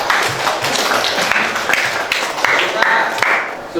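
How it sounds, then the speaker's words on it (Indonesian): Students in a classroom clap together in a lively burst of applause, brisk overlapping hand claps filling the room with a few voices mixed in. "kita beri aplaus untuk kita semua"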